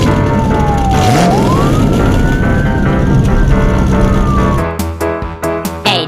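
A German police car siren wails in a loud, continuous rising and falling tone that dominates the scene, then breaks into choppy, stuttering bursts near the end.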